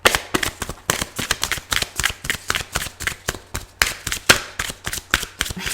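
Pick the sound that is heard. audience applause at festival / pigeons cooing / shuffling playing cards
shuffling playing cards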